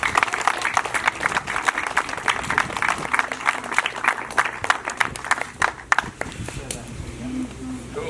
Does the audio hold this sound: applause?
yes